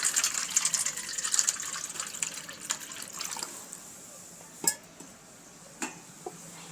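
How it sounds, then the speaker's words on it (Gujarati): Water splashes and gushes into a large bowl holding oil, for papdi gathiya dough. Strongest at the start, the pour trails off into a quieter trickle, and a couple of sharp clinks follow. "અને થોડું આપણે પાણી ઉમેરીશું"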